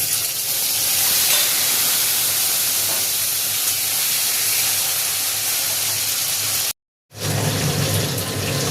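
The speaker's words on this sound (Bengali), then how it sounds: "এবার কচুরমুখিটা দিয়ে দেবো।" Taro roots (kochu mukhi) fry in hot oil in a kadai, a loud, continuous broadband sizzle that drops out for a brief moment near the end before surging back just as strong.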